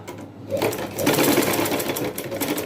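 A sewing machine runs a continuous stitch through baby frock fabric, a steady close whir with a brief pause at the start, with no voices over it.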